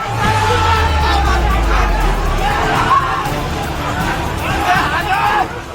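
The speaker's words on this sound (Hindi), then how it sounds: "पुलिस वालों के पीछे पीछे भीड़ दौड़ रही है।" Protest crowd chasing police through a street in Nepal: a loud, continuous roar of shouting and babbling voices, close and dense throughout, with occasional rising yells.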